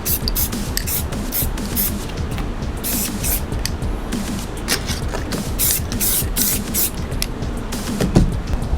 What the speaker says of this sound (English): So I spray painted the edges so you can see it a little bit better